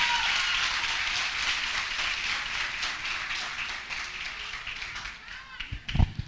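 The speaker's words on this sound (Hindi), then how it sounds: "अरे तालियां बजाने में इतनी कंजूसी क्यों करते हैं यार?" Audience at a dance workshop grand finale clapping, a steady, fairly faint wash of applause that thins out, with a couple of louder thumps near the end.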